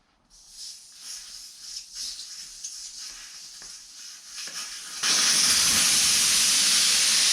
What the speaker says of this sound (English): So we want to take that valve core out, air down the tire.